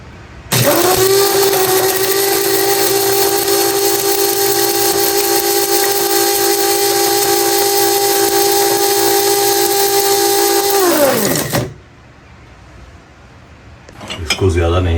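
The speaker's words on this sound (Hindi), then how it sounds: "अब इसको ग्राइंड करेंगे।" An electric grinder whirs steadily as it grinds roasted spices for chicken karahi masala. The high, loud motor whine holds for about eleven seconds, then winds down and stops, and a brief rattle follows.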